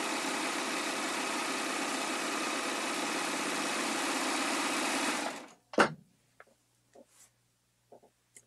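A Baby Lock serger runs steadily while sewing a rolled hem and trimming fabric with its blade, a dense whirring motor hum for about five seconds that stops abruptly, followed by a clunk and a few faint handling sounds.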